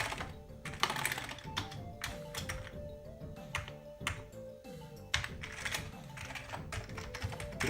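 Keys on a Commodore Amiga 500 Plus keyboard are tapped in quick irregular bursts, with close, crisp clicks and thunks over a faint steady hum.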